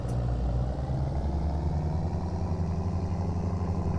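A six-gear tractor engine in BeamNG.drive runs steadily at close range, a continuous low rumbling drone with a slight clattering texture and no pauses.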